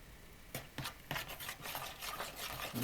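A spoon stirs kefir with baking soda in a bowl for dumpling dough, soft rapid scraping and swishing strokes in a steady rhythm, close and quiet with no talk.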